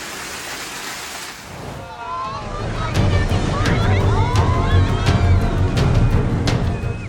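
Raging ocean with 26-foot waves striking a natural rock shelf, a loud continuous roar and rush of surf with wind buffeting, swelling heavier partway through.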